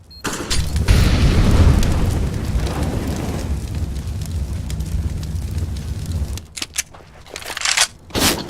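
An incendiary grenade goes off in Counter-Strike: Global Offensive with a heavy, booming roar of fire. The blast swells loudly and then settles into a sustained crackling burn, with sharper clicks and thuds near the end.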